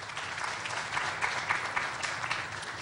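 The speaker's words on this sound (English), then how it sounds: "So please give UE, UTT a round of applause." An audience applauds at a university opening ceremony in Trinidad and Tobago, a steady, fairly dense round of clapping from a mid-distance crowd lasting the whole moment with no talk over it.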